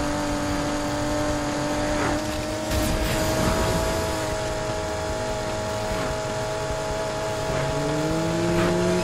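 A racing car's engine accelerating in the video game Need for Speed Heat, with a loud, steady engine drone that rises in pitch through several gear changes, plus brief whooshes and tire noise. No talk is heard.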